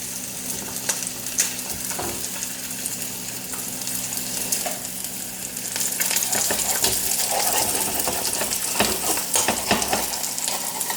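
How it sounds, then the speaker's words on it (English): Bacon and egg fry in a nonstick skillet, giving a steady close sizzle with crackles and scraping stirs that grows louder midway. "Get my bacon going here."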